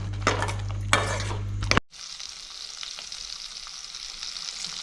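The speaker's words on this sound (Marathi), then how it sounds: "आणि परत एकदा तेल सुटेपर्यंत गाजरं शिजवून घेऊ" Carrots frying in oil in a pan for a paneer vegetable dish, a soft close sizzle with a couple of stirring knocks, then a sudden cut to a quieter, steady hiss.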